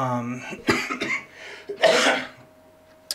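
A voice trails off, then a couple of harsh, close coughs with throat clearing break through, loud and abrupt against quiet pauses.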